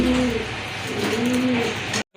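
Fancy pigeons, a milk-white pair of the lakkha (fantail) breed offered for sale, give two drawn-out soft coos close by over steady background noise, ending abruptly.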